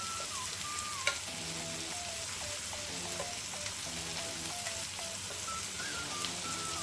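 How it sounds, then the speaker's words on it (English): Steak browning in an electric frying pan sizzles in a steady, close, continuous crackle, with a few faint tonal blips and a small clatter early on. "Okay, so all of our meat's in the pan."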